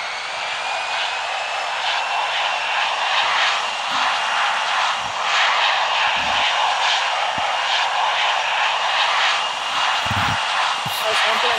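In the Infinite Flight simulator, an airliner takes off at Los Angeles on runway 25 left as a Cathay heavy jet. The engine roar is steady and loud, with a voice talking over it.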